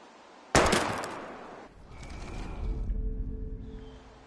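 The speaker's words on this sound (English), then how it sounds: "We're gonna shoot all these bottles without wasting a single bullet." A single sharp gunshot at a bottle in the video game Life is Strange, loud and sudden, followed by a decaying tail and low rumbling game ambience.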